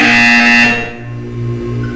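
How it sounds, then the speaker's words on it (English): A loud, harsh buzzer in the game Portal 2 drones steadily for about two seconds, its tone shifting slightly partway through. "When you hear the buzzer, look up at the ceiling"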